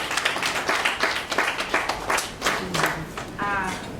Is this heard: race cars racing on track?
no